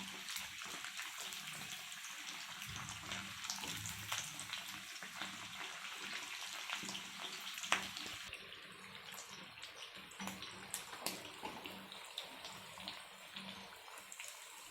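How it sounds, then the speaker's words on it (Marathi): Sabudana vadas deep-frying in hot oil, a continuous soft bubbling sizzle with fine crackles, steady and fairly faint, with no one talking. "सोनेरी कलर येईपर्यंत आपल्याला वडे तळून घ्यायचे आहेत"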